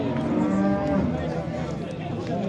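Cattle lowing at a busy livestock market in Yangiqo'rg'on, with repeated moos from cows and calves over a dense, continuous crowd hubbub.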